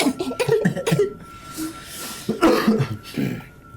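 A man coughs in harsh, raspy bursts, a cluster at the start and another about two seconds later, close and fairly loud with short breaths between.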